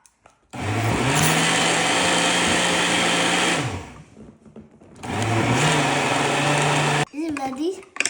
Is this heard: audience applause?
no